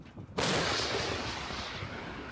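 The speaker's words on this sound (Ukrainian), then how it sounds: "самохідка аж підскакує над землею від потужного пострілу" One massive, close blast from a self-propelled artillery gun firing in combat near Bakhmut, its roar lingering and slowly fading after the sudden onset.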